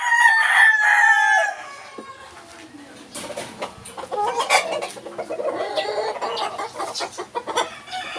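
Chickens clucking and squawking close by, with a rooster's crow at the start, irregular bursts over rustling background.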